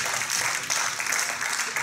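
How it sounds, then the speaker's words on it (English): A church congregation claps together, a dense, continuous patter of many hands at moderate loudness filling the room for a couple of seconds. "Can you clap your hands for Jesus?"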